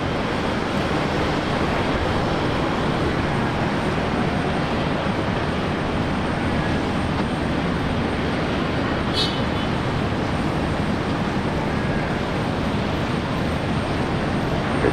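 Loud, steady roar of a jet aircraft at Brisbane Airport, continuous broadband engine noise that stays level throughout, with a brief faint chirp partway through.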